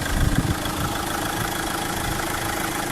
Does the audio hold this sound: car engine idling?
yes